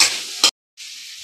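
Food fries in a wok (kadai) with salt while being stirred, a loud broadband sizzle broken by a short scrape, a clean gap of silence, then the sizzle resuming.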